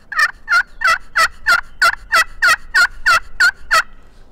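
Turkey pot call played with a striker held at an angle, off the sweet spot, giving a steady run of about a dozen evenly spaced, raspy yelps, clear and close with nothing else behind them.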